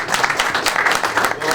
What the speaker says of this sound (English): That was a good clap for her too.